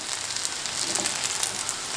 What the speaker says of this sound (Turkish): Bütün patlıcanlarımızı alt üst güzelce kızartalım.